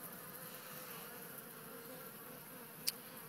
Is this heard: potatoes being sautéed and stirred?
no